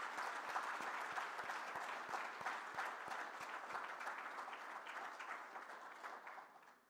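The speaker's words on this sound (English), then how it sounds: "one quick round of applause for our Chairman and Vice Chairwoman, Catherine Marshall and Cole Durham" A conference audience at a G20 interfaith forum applauds in a steady, fairly faint round of clapping that holds for several seconds and then starts to fade at the end.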